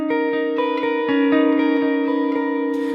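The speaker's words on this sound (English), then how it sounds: "it starts with a cluster chord that" A dissonant cluster chord on guitar, strummed and then picked in repeated notes at a steady pulse, left to ring out close and clear for about three seconds with no voice over it.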